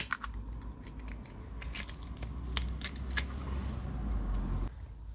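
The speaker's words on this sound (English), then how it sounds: "So I'm gonna cut this in half now." Snipping and crunching cuts through a part being sliced in half during a BMW F-Series modification, a close series of sharp clicks and crackles over steady background noise.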